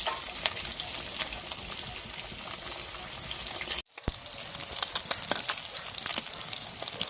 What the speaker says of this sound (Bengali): এই দেখুন আমি এপিট ওপিট দুপিট লাল লাল করে ভেজে নিয়েছি